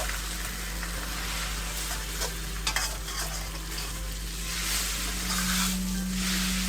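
Eggs sizzle and get scrambled in a hot frying pan for pad thai, a steady crackling hiss with occasional scraping clicks of a utensil, close up and continuous.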